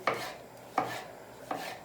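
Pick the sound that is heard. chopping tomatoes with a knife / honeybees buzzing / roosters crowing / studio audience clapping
chopping tomatoes with a knife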